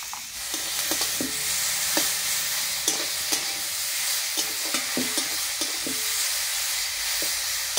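Tomato sautés in a hot pan with salt, turmeric and chili powder, a steady hiss of sizzling oil broken by repeated scraping clicks of a spoon stirring, close and without speech.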